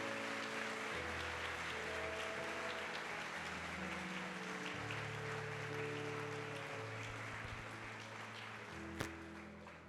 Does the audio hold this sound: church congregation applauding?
yes